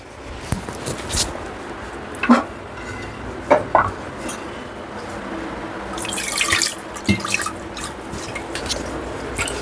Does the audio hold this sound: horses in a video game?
no